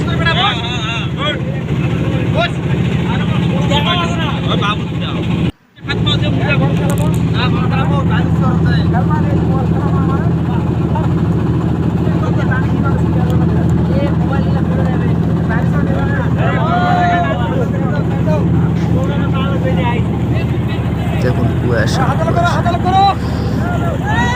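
A motorboat's engine drones steadily while crossing the Padma river near Rajshahi, a loud continuous low hum with a brief cut-out near the middle, while people talk and call out excitedly over it throughout.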